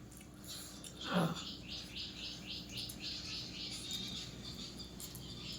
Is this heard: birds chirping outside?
yes